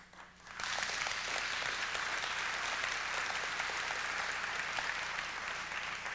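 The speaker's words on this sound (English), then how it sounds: "I wasn't expecting applause at this point" Sustained audience applause erupts after a brief quiet lead-in, a dense wash of many hands clapping at steady loudness for several seconds during a lecture.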